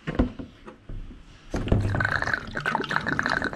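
Coolant drains and splashes out of a motorcycle radiator during a hose and coolant change, starting as a few scattered drips and spatters, then becoming a steadier close pour of liquid.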